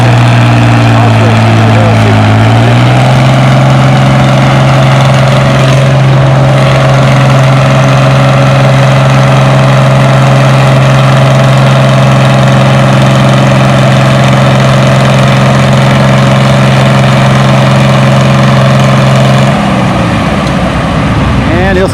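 A diesel engine on a pulling tractor roars loudly and steadily at a tractor pulling competition, a sustained heavy drone that shifts pitch at the start and drops away near the end.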